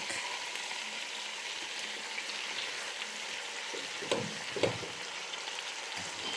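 Chicken sizzles and fries in a pan ahead of the coconut milk, a soft continuous sizzle with a couple of louder stirring scrapes near the end and no talking.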